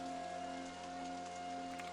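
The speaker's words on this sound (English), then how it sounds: "Oh wait, it's raining." Steady rain falls in a RollerCoaster theme-park simulation game, a dense even hiss running without a break across the whole stretch, with faint steady game-music tones beneath and no talking.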